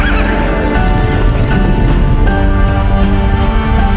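A wild horse neighs over a dense, loud background of layered sound that runs steadily throughout.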